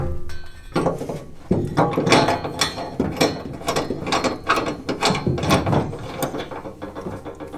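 Ratchet wrench clicking as 1/4-20 bolts are driven into threaded inserts pressed into steel MOLLE rack panels on a 2019+ Ford Ranger bed, with steady, busy bursts of ratcheting close up and no talk.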